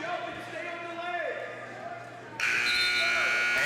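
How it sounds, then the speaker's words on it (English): A loud electronic buzzer sounds to end a period in a high school wrestling match between Audubon and Sterling, cutting in sharply and holding steady after an announcer's commentary over gym crowd noise. "And no points awarded to McGuckin as it happened just after the buzzer"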